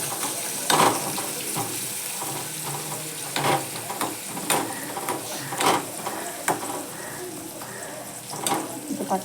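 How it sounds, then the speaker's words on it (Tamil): Garlic, onion and tomato sauté in a pan with a steady broadband sizzle, punctuated by repeated sharp scrapes and clinks of stirring; quiet background voice activity is present. "இது கொஞ்சம் நல்லா வதங்கட்டும்"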